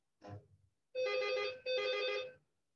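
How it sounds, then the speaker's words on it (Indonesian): A telephone rings in two long electronic bursts with a short gap between them, loud and close, after a brief muffled bump. No one speaks. "Kayaknya aku di telepon."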